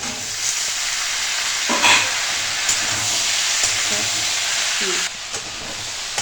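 Green chillies hit hot mustard oil for a mango oil pickle, producing a loud, continuous hissing sizzle close by, with a few soft stirring knocks.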